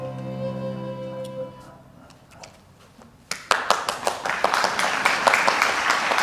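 An audience in a church breaks into clapping after sustained music fades. The applause is loud, close and irregular, and it builds steadily to the end.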